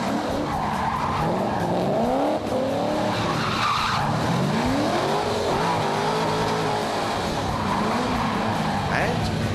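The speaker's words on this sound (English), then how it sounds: "pole position but was still demanding plenty of attention was Darren Park in his 2001 HSV R8, which runs a V8 supercar engine" A 2001 HSV R8 fitted with a V8 supercar engine racing, loud revving and shifting engine pitch with tyre squeal and skidding, close and continuous, with a commentator talking over it.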